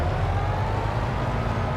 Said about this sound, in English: horn, sounds like a truck